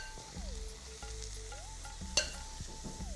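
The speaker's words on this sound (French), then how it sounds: "J'attends, je mélange." Salmon pieces being stirred in a pan of hot oil just taken off the heat, a steady soft sizzle with scraping stir strokes and one sharp clack near the end.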